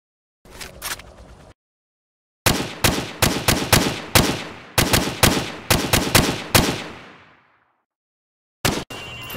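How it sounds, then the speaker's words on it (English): Bursts of gunfire from Call of Duty Modern Warfare as pop-up targets are shot one at a time, loud rapid single shots in a steady rhythm across several seconds, with a brief burst before and another at the end, no talking. "I want you to shoot the targets through the wood."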